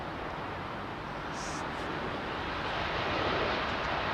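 JAL Boeing 787 Dreamliner departing London Heathrow, a faint, distant engine rumble that swells slightly toward the end, with a brief high tone partway through and no talk.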